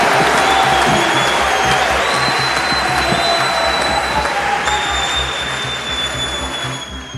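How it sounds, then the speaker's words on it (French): An audience at a speech in Kinshasa applauds the speakers, a dense steady wash of clapping and crowd noise that gradually thins toward the end. "je vais vous demander d'applaudir avec tout l'amour qui est le vôtre, tous les orateurs et toutes les oratrices qui ont parlé aujourd'hui"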